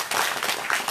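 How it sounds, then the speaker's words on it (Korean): A crowd applauds at a Wednesday protest rally in Soseong-ri, a brief burst of many hands clapping at moderate volume with no break. "김영렬 팀장님께 다시 한번 박수 드립니다"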